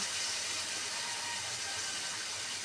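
Water poured into a hot pan with tamarind sauce, a continuous broad hiss and steamy sizzle, close and fairly steady.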